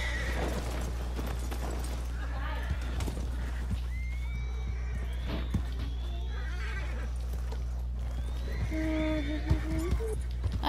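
Horses in the video game Red Dead Redemption 2 neigh and whinny repeatedly while hooves clip-clop underneath, several loud calls rising and falling over a steady low engine-like hum.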